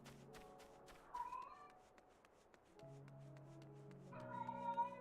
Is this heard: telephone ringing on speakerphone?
no